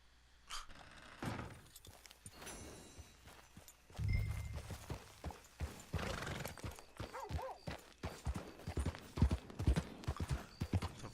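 Horse hooves clip-clop steadily in Red Dead Redemption Online, with a neigh or two and scattered thuds between, moderately loud and close with faint background voices.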